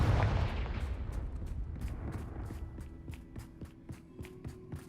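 Confringo fire spell blasts in the Hogwarts Legacy video game: a loud opening burst followed by a rapid series of sharp, evenly spaced cracking impacts that gradually fade, with no talking.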